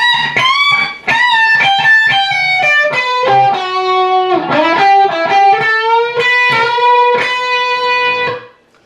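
Distorted electric guitar plays a quick rock solo phrase with bends and fast runs, loud and sustained throughout with no voices.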